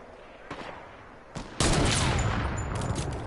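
Video game gunfire erupts in a dense burst after a couple of single shots, continuous rapid firing that fills the clip.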